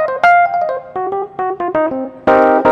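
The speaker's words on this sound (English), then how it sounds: "So this is a Rhodes 78." Rhodes 78 electric piano patch on a Yamaha CP88 stage piano, a run of short bell-toned notes and a few chords played in uneven phrasing, ending on a louder sustained chord, with no voices.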